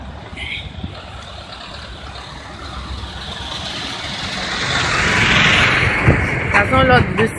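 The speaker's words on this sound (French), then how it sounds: "L'autre bus qui arrivait là." A bus arrives with a low engine rumble that swells and grows louder toward the end, and a hiss of air brakes comes through at the close, with talk heard over it.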